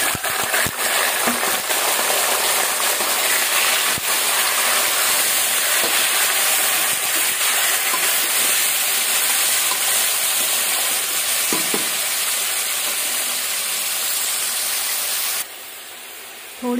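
Cumin seeds frying in hot oil in a pan for masaledar kadai chicken, a steady close hiss and crackle running without a break for the whole stretch, with a few faint clinks partway through.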